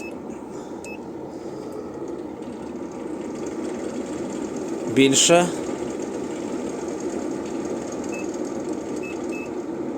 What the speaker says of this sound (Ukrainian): Зараз почуєте звук по звуку. Ось обороти вентилятора.